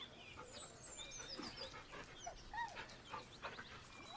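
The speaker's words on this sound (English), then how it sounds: "With a deep, heartbroken whine, the dog bows his head." A dog in the video game Baldur's Gate 3 gives a deep, heartbroken whine, a series of soft whimpers and short yips over quiet ambient game sounds.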